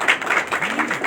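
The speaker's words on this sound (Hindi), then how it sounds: "भाई दीदी जी के लिए साथ ताली तो बजाइए" A seated audience at a spiritual talk on stress-free living claps together in quick, even rhythmic bursts, fairly close, with a faint voice sounding briefly underneath.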